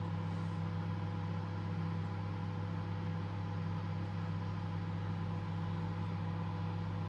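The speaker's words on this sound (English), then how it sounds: "now we're just going to microwave this in bursts until it's completely melted" A microwave oven runs on high, heating and melting a gel plate mix, giving a steady low electrical hum with a constant tonal drone, quiet and unbroken for several seconds with no voices.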